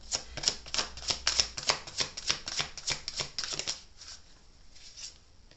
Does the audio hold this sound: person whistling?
no